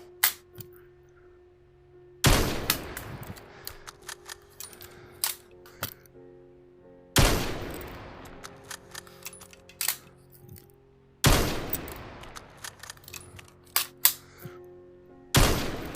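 Four sharp, loud shots ring out from a sniper rifle in a virtual reality shooting game played on a Meta Quest 2 with a gunstock, each followed by a decaying tail, with small clicks and handling noises between them.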